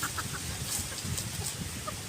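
Bantam chickens cluck and squawk in short, agitated bursts as two of them scuffle, loud and close in a farmyard, with no one speaking.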